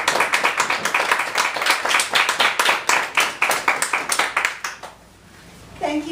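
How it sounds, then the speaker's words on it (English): An audience claps for a speaker at a Toastmasters-style meeting, a steady stream of distinct hand claps that stops abruptly near the end, followed by a brief voice. "Let's give her a big round of applause."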